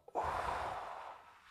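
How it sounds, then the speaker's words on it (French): A single deep breath drawn during a yoga exercise, a sharp audible inhale that swells into a long airy rush and slowly tapers, close to the microphone with no talk. "Une respiration."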